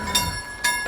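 A train passes a railway crossing in wintry Swedish Lapland, heard from a bicycle. There is a steady ringing, tonal whine with two brief bursts of rushing noise over a low rumble.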